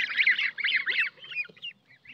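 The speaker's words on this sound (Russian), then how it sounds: "И отвечают всегда только гуси. Утки молчат." Domestic geese kept together with ducks, 22 days old, give a run of repeated honking calls close by, loud at first and then thinning into fainter, scattered calls.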